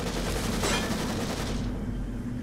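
Rapid gunshots in The Evil Within, a burst of sharp cracks in quick succession over a steady low drone, loud and close, tailing off into a fading rumble.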